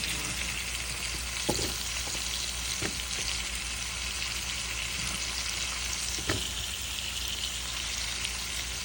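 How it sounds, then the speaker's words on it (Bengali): Cauliflower frying in a pan for mixed vegetables, a dense, even sizzle that holds for several seconds, broken by a few soft utensil knocks, with no one speaking. "ফুলকপি আগে দেব ঝটপট রান্না করি ফুলকপি"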